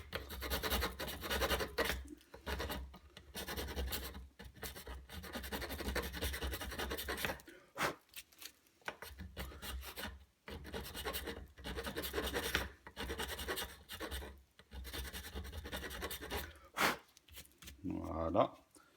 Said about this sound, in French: je vais le limer. Donc ça se lime très bien, hein.